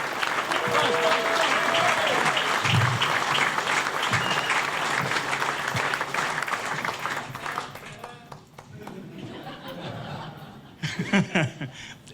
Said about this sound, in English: Please give David and Ben a big round of applause as they come to the stage